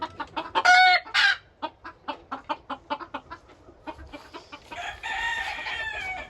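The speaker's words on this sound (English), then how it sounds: "That rooster does not shut up. Every video that I film out here, you hear him crowing non-stop." A gamefowl rooster crows loudly nearby, with a burst of clucking and rapid scratchy calls around the crow, no talking.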